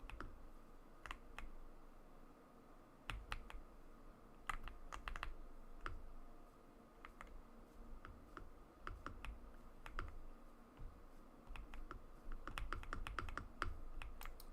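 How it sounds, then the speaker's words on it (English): Someone types fast on a computer keyboard close up, with irregular bursts of sharp key clicks and short pauses between runs. No voices are heard. "Bro is just typing shit."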